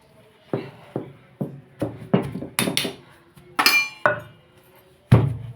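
Repeated sharp pounding thuds of peanuts being crushed with a pestle in an uneven rhythm, some strikes ringing with a metallic clink, close and fairly loud with short pauses between blows.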